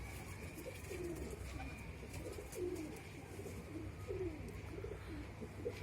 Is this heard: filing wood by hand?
no